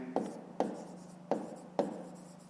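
Pen writing by hand during a fifth-grade math exercise: four short, crisp scratching strokes, close and evenly spaced, over a quiet background.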